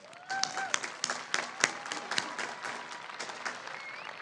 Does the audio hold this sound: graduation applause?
yes